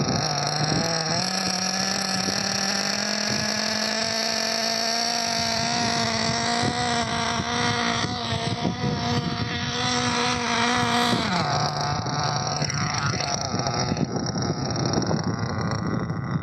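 A small engine runs during a break-in routine, throttle eased on slowly, giving a loud, continuous buzzing drone that rises gradually, then drops in pitch partway through, with wind rumble on the microphone.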